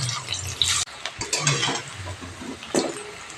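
Boiled potatoes sizzle and spatter in hot oil in a wok, a close, crackling hiss with sudden bursts and stirring clatter.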